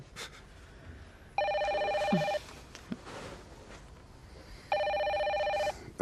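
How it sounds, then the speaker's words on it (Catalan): A telephone rings indoors in two clear electronic bursts about a second long, with a pause between them. Small room noises sound in between and nobody speaks. "Però potser és el Max. No, ja tornarà a trucar."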